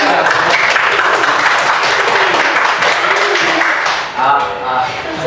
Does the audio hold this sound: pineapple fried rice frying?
no